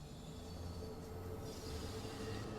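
A London Underground Bakerloo Line train in Train Sim World 2 accelerates with a continuous low rumble and rising motor hum, steady and fairly loud with no talking.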